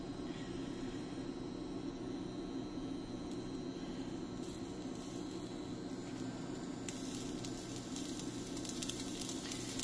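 A smoked Polish beef sausage pan-fries with a soft, continuous sizzle, faint, even and crackly, with no talk over it.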